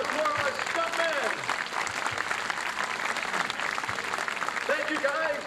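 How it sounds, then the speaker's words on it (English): Audience applauding stuntmen at the Miami Vice Action Spectacular stunt show at Universal Studios, steady dense clapping from a large crowd with cheers and shouts mixed in throughout. "how about a nice round of applause for our stuntmen?"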